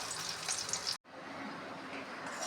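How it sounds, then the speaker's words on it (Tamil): Small onions sauté for chutney in a pan with a soft, steady sizzle and a brief cut partway through, faint and close with no talk. "இந்த மாதிரி வெங்காயம் வதங்கணும்."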